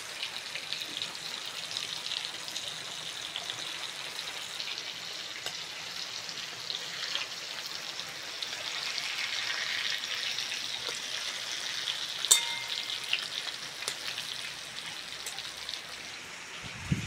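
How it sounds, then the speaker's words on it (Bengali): Brinjal and pointed gourd slices frying in hot oil give a steady, close sizzling hiss that runs the whole time with small crackles and pops, and no one speaks. "বেগুন আর পটল ভাজা হয়ে গেছে, তেল থেকে তুলে নেব।"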